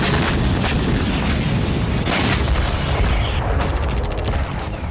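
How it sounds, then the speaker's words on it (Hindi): A drone packed with explosives blows up after crashing in the Kaluga region near Moscow, a loud sustained booming roar with rumbling blasts filling the whole stretch and no voices. "गिरने के बाद इसमें धमाका हुआ।"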